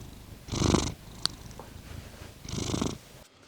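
A cat purrs close by in two rhythmic rumbling swells about two seconds apart, soft and steady with a quiet room behind it.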